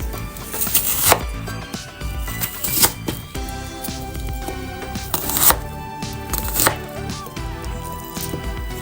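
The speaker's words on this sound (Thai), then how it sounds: "หั่นเป็นชิ้นนะคะ" A knife chops an onion on a cutting board in irregular bursts of sharp taps, close and clear, with short pauses between runs of cuts.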